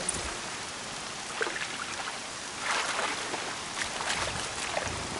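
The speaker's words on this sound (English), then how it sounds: "More rain." Steady video game rain hisses continuously with scattered droplet patters and small splashes, no voices.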